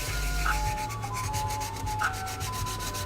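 A 320 grit sanding block rubs over a 3D printed scorpion mask in steady, continuous back-and-forth strokes, close and fairly even in level.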